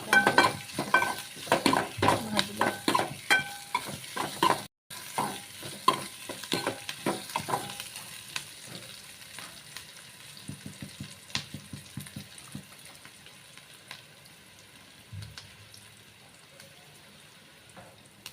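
Mustard seeds crackle and sizzle loudly as they hit hot oil for a Holi special dish, with dense popping bursts that gradually thin out and soften, broken by stirring clinks.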